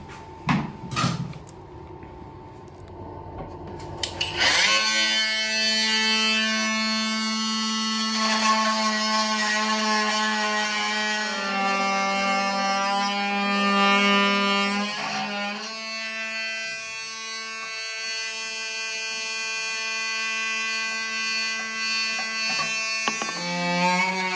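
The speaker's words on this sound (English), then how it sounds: "I'll get a multi-tool and just cut them off the bottom" An oscillating multi-tool cuts through spinning toilet bolts with a loud, sustained buzzing whine. It starts abruptly after a few quiet knocks and changes pitch as the blade bites into the metal.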